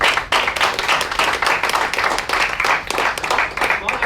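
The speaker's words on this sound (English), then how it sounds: "Please give a big round of applause." Audience applause after a call for a round of applause during a session activity, dense steady clapping from many hands sustained throughout, fairly close and loud.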